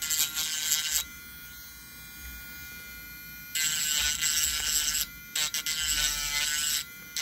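A high-pitched power rotary tool grinds the plastic legs of an entry grade Build Strike Exceed Galaxy Gunpla model kit, running in loud bursts at the start and twice near the end, with quiet pauses between.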